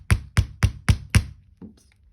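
Five sharp, evenly spaced knocks of a rubber hammer striking metal chain links on a bench block, close and crisp, followed by a fainter clink as something shifts.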